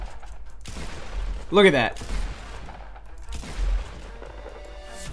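Shotgun blasts from the video game Fortnite fire in quick pairs, loud booming shots with a brief gap between them, while someone talks briefly over the game sound.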